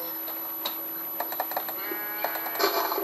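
A sheep bleats in Minecraft with a short, fairly faint cry, mixed with light clicking and ticking game sounds on a quiet background.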